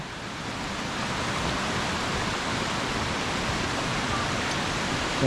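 Water pours down at a waterfall near Sam Neua, a steady, dense rushing hiss that stays constant and unbroken throughout.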